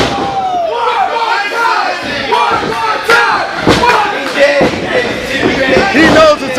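A wrestling tournament crowd yells and shouts loudly through a match. Overlapping voices rise and fall in waves, with scattered thuds and slaps mixed in.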